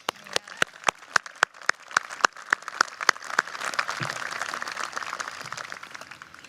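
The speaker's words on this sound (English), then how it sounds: "A round of applause for that." At a college commencement ceremony, one person claps in sharp, evenly spaced single claps before the wider audience joins in with a swelling, dense round of applause.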